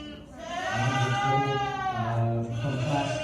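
A meat goat at a livestock fair lets out a loud, wavering bleat that rises and falls twice in quick succession, close and clear.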